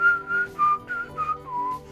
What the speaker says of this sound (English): they whistle the Planet Coaster theme non-stop